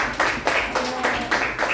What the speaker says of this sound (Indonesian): berikan tepuk tangan ya pada kelompok 1 ya